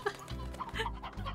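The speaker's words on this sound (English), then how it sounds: "here's our little mess of chickens we got going on" Short burst of chickens clucking in Slime Rancher, a few quick close clucks over a low background hum.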